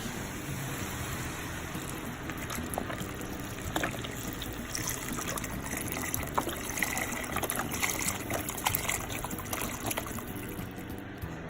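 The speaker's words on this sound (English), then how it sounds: "I'm going to add, it's 32 ounces of broth." Chicken broth, 32 ounces, is poured steadily into a pot for a ground chicken and macaroni soup, giving a continuous trickling, splashing liquid sound close by.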